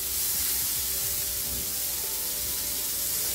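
Onion sautéing with garlic in melted butter in a pan, a steady close sizzle and hiss running without pause, with faint scraping from stirring.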